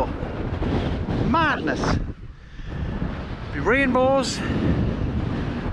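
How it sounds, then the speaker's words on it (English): Strong wind buffets the microphone on the Scottish east coast, a steady rough roar running through the whole stretch while people talk over it. "Stop it flapping about, like. So windy."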